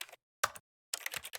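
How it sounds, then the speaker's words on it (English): Three short bursts of keyboard clicks sound in The Stanley Parable video game, quick light taps separated by brief silences, close and clean. "when I click, it makes keyboard clicky sounds"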